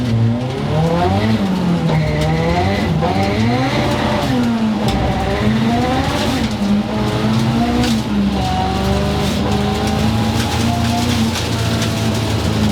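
A 515hp rear-wheel-drive Honda Civic makes a rolling launch at a drag strip, its engine revving loud and close with rising and falling harmonics while the tires spin and squeal throughout.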